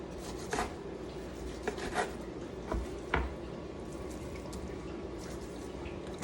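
A knife slicing steak into thin slices makes soft, repeated rasping cuts with faint knocks on the board, quiet and close, in an irregular rhythm with no talking.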